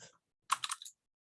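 A quick burst of typing on a computer keyboard, several close, crisp key clicks in rapid succession after a faint brief sound at the start, then silence.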